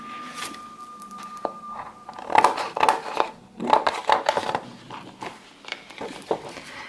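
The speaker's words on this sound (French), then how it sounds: "je vais découper au ciseau" Scissors cutting paper for a mini unicorn scrapbook album, a series of soft snips and rustles with irregular spacing, quiet and close, some crinkling of paper between cuts.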